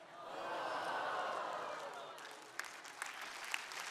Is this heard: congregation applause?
yes